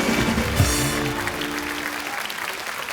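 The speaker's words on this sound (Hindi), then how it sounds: "तो जोरदार तालियां।" Studio audience applause on a comedy talk show, a short burst of clapping heard alongside voices that fades out.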